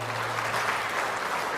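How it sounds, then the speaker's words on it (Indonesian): An audience at a national ministry work meeting applauds an introduced official: dense, sustained clapping from a large crowd, steady and fairly loud for the whole stretch. "Tepuk tangan juga untuk beliau."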